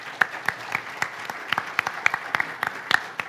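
Sparse, moderately quiet clapping from a church congregation greeting its executive pastor, a handful of distinct claps in an irregular rhythm over a soft room hum.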